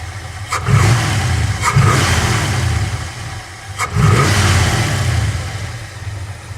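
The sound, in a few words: 1979 Ford F150 400M engine revving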